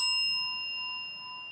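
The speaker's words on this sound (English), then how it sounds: "for the amount of time that it takes for the bell to ring out and ring through" A small meditation bell rings out alone, its clear sustained tone struck once and slowly fading over the whole moment.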